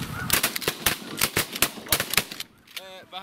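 A shotgun fired during a spring snow goose hunt: several sharp, loud shots in quick succession over a background of many honking geese, with excited voices talking, then goose calls continue after the firing stops.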